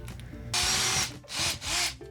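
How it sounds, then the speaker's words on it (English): A power drill bores a bolt hole in a Chevy C20 tool truck, in three loud, close bursts: a long run, then two shorter ones with brief pauses between. "I'm gonna put 1 bolt in, tighten it down, and then drill the other hole"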